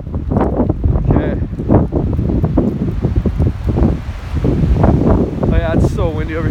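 Strong gusty wind buffeting a microphone outdoors at Big Bear Lake, California, during a high wind warning ahead of snow, a loud rumbling roar with rustling bursts throughout, and short vocal sounds near the end.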